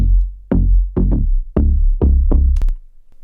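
A deep two-oscillator synth bass plays six punchy plucked notes in an uneven rhythm, each with a bright attack that fades quickly, followed by a brief high click.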